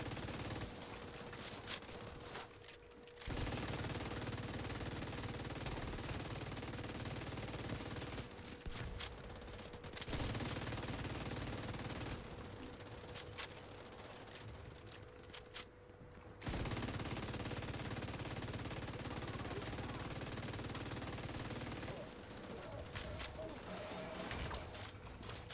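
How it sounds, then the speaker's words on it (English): Sustained video game gunfire in long loud bursts separated by brief pauses, with steady dense shooting filling most of the stretch. "Fine, I'll shoot this one."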